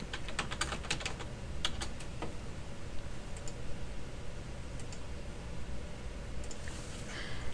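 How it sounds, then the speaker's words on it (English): Keystrokes on a computer keyboard as check numbers and dates are entered into accounting software, with quick clustered taps near the start and again at the end over a steady background hum; no voices. "Type in the check number, check date, and receipt date."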